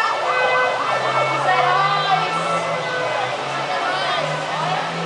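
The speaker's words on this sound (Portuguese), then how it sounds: "Agora, sirene dos bombeiros." A fire engine siren wails continuously as the truck approaches along a city street in Vila Alpina, loud and steady with rising and falling tones, traffic noise underneath and a voice talking over it.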